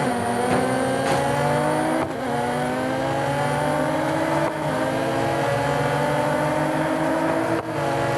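A Nissan Skyline GT-R V-Spec R34 with 276 hp, driven in Real Racing 3, holds a loud, continuous engine drone in sixth gear. The pitch climbs steadily throughout, and a few brief dips break the sound.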